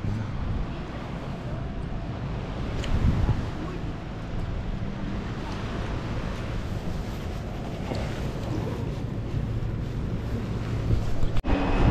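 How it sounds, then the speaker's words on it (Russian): A motor ship pulls away on the Crimean coast near Yalta, bound for Gaspra. It sounds like a steady low rumble mixed with wind buffeting and lapping water, continuous and fairly distant. "Он отплывает теплоход на Гаспру"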